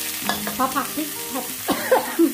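Curry paste stir-fried with catfish for a northern Thai-style curry, with close, loud spatula scrapes and squeaky rubbing strokes over a low sizzle in quick, uneven bursts.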